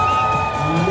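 A homecoming crowd in Castillejos, Zambales cheers and shouts loudly together, a dense, continuous roar of voices with whoops rising through it.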